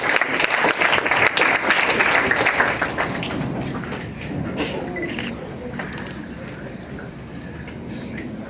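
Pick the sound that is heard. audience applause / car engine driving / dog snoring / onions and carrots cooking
audience applause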